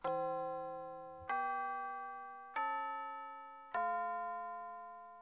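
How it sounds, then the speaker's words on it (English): A bell in a video game rings four times at an even, unhurried pace. Each clear metallic strike rings out and slowly fades before the next, with no voices. "the bell noise coming from that direction"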